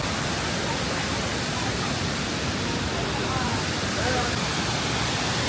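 A hot spring waterfall at Luoji Mountain in Sichuan pours from a cliff face, giving a steady, dense roar of rushing water that stays even and unbroken throughout.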